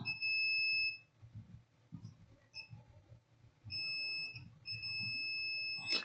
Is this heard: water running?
no